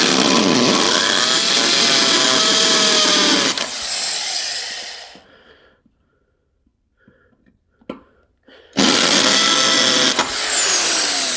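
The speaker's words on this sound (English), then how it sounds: "So I need to drill these pop rivets out to put the new ones in." A power drill bores out pop rivets on a car, a loud, close, high-pitched whine in two bursts separated by a quiet gap with a few small clicks and taps.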